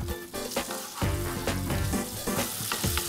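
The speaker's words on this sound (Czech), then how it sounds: "a zarestuju cibulku." Onion sizzles loudly in hot lard with melted bacon in a pan, a dense, steady crackle and spit with occasional stirring scrapes, close and continuous without any talk.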